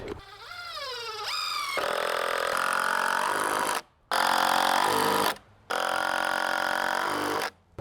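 A power driver sinks small screws into wooden foundation beams of a DIY cabin. It makes loud, close, rising whines in three bursts separated by brief pauses, with no speech.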